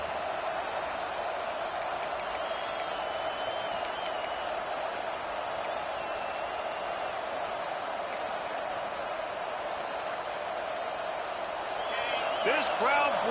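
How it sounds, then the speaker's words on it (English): Steady roar of a large stadium crowd in a college football video game, constant and dense throughout, with a swell of noise and whistles near the end. "This crowd bringing the energy and noise early."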